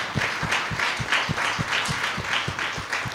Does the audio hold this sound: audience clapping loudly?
yes